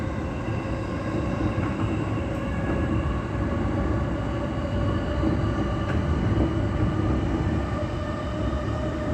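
Interior running sound of E217 series car KuHa E217-23 on a special rapid service toward Soga: a steady, loud rumble with faint motor hum and wheel noise throughout, no voices.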